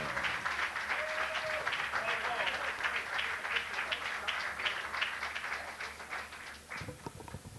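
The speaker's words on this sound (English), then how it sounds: "I think that deserves another round of applause." An audience in a live radio show studio applauds, a dense continuous patter of clapping that runs throughout and tapers slightly toward the end, with some voices mixed in.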